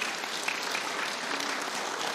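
Steady, dense applause from an audience at a religious gathering, continuous and fairly loud for the full stretch with no voices over it.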